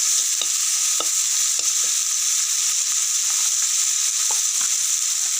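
Spices with cumin and coriander powder fry in hot oil under constant stirring, making a loud, even, hissing sizzle throughout, with a few faint spoon taps against the pan.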